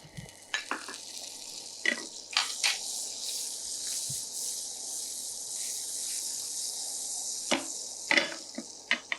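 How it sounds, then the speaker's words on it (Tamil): Butter sizzling in a hot pan on the stove, a steady broadband frying hiss running throughout with occasional sharper pops and crackles, fairly close and with no talking. "பேனில் கொஞ்சம் பட்டரை சேர்த்துடலாம்"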